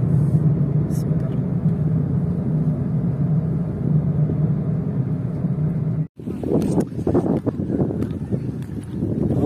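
A car drives along a forest road above a lake, its steady low road rumble and wind noise close and continuous, with a brief dropout followed by rougher bumping; people talk over the drive.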